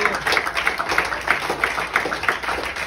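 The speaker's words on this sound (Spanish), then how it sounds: "Un aplauso a Jesús." A congregation at a church preaching service claps steadily in a regular rhythm, a run of sharp rhythmic hand claps close by that holds even for a few seconds.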